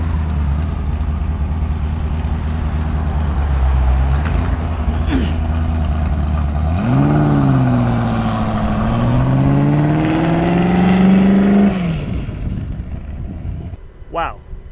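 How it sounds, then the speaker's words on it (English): A Ford GT Gulf Oil Edition sports car passes close by, its engine note climbing and shifting as it revs, a loud rising drone that fades out toward the end. "Look at this GT40, or look at this Ford GT."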